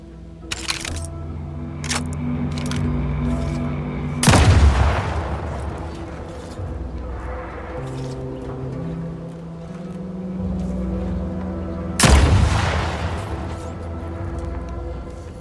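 Gunfire in The Outer Worlds 2, with two loud, booming single shots several seconds apart set against background game music and ambience.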